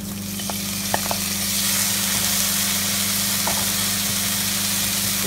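Chopped tomato sizzling and frying in a pan of prawn masala as it is stirred, a steady hiss with a few faint clinks of the spoon, no voices.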